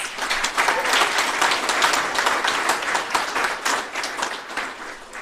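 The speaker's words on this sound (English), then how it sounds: "Let's give them a round of applause." A graduation ceremony audience gives the graduates a round of applause, steady, dense clapping filling the hall for several seconds.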